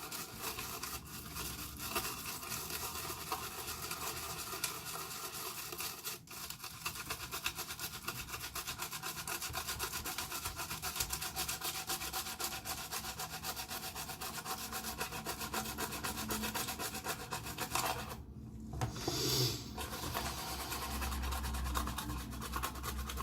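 A toothbrush scrubs stripped acrylic and enamel paint off a plastic model in quick, continuous bristly rubbing strokes, close and fairly quiet, with a brief pause near the end.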